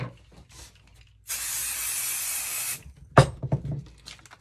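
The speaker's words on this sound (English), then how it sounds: "I'm gonna spray the back of my paper." Spray adhesive hissing from an aerosol can onto the back of a sheet of paper during junk journal crafting: one steady, loud burst lasting about a second and a half, followed by a few handling clicks and rustles.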